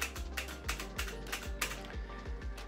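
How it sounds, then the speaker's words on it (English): Fingers clatter across a mechanical keyboard in quick, uneven bursts of clicky keystrokes, close but fairly quiet. "Most of the time, everything was done with this mechanical keyboard."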